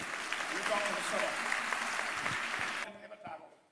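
Applause from a church congregation during a prayer service, a dense steady clatter of clapping mixed with voices that cuts off abruptly near the end, followed by a few scattered claps.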